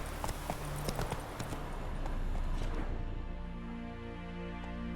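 Roach, the horse in The Witcher III, gallops with steady, rapid hoofbeats, close and fairly loud, giving way after a few seconds to a calmer tonal game ambience.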